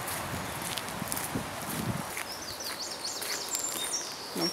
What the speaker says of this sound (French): Et là, on entend surtout les oiseaux.